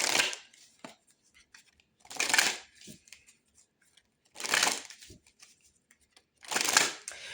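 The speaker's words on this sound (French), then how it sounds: "on va aller tirer d'autres cartes" Tarot cards being shuffled in three bursts of riffling, close and fairly soft, separated by near silence with light card handling between.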